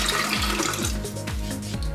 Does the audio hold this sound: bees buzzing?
no